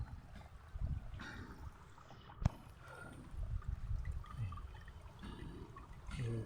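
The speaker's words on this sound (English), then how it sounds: "Yan yung mga cute waterfalls dito." Small waterfalls flowing in a natural setting, a soft continuous rush and trickle of water heard fairly close, with a brief sharp knock partway through.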